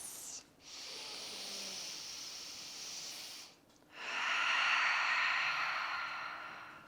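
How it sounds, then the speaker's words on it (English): Slow, deep yogic breathing during a yoga pose: one long, airy inhale, a brief pause, then a long, steady exhale, close and clear with no talking. "deep yogi breaths"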